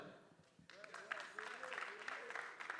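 A studio audience at a French-language talk show applauds, producing a faint, steady patter of clapping mixed with murmuring voices.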